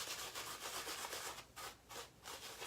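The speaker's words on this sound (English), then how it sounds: "I'm face lathering, so I want to use my entire face to build this lather up" A shaving brush working lather directly on a face, a steady wet, bristly rubbing swish that pulses in short back-and-forth strokes and stays close and soft.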